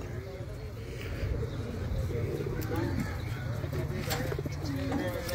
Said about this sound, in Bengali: এখানে 3 ক্লাবের কবুতর।